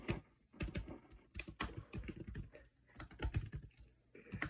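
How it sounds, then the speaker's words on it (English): Close-up typing on a computer keyboard, quick bursts of key clicks with brief pauses between runs, no talking. "Wait for me to catch up with my typing."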